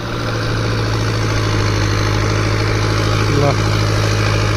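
A tractor engine idles nearby, a loud, steady low drone with a constant mechanical hum and no change in revs throughout.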